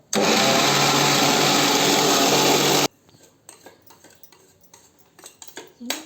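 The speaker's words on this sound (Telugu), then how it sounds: "పోసి మళ్ళీ ఒక రౌండ్ మిక్సీ పట్టుకోవాలి" A mixer grinder whirring loudly as it grinds peanuts with chilli powder for a garlic and nut kaaram, one harsh continuous burst of about three seconds that cuts off abruptly, followed by faint clinks and handling noises.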